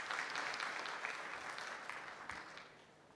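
An audience at a German-East African business event gives a round of applause, a fairly quiet wash of clapping that gradually fades out.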